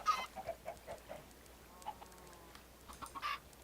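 Minecraft chickens clucking in short, soft bursts, several quick clucks spaced irregularly and fairly faint, with no voices.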